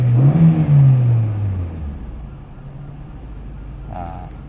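A Toyota Corolla engine at idle near 1000 RPM, with a brief rev at the start that settles into a steady, close, moderately loud idle hum.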